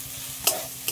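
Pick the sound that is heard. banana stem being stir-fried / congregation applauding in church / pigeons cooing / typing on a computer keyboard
banana stem being stir-fried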